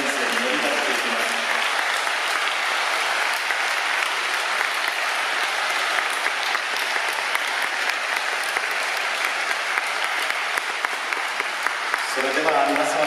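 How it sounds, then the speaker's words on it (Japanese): Long, sustained audience applause at a sumo wrestler's retirement ceremony following a bouquet presentation, a large crowd clapping steadily and loudly, with a voice faintly under it near the start and end. "大きな拍手をいただいていいでしょうか。"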